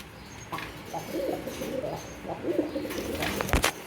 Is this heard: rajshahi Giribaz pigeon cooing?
yes